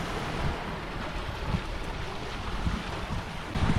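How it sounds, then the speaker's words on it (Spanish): Lakeside water laps and splashes steadily beside a parked camper in Italy, mixed with constant wind buffeting the microphone; no voices, just a dense, continuous wash with occasional louder surges. "Seguramente ahora están escuchando el ruido del agua, es que estamos justo al lado del lago"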